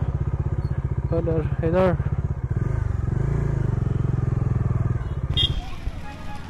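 A motorcycle engine rumbles steadily at close range while being parked at a Maha Shivratri gathering at Akashi Ganga, with voices and crowd chatter over it.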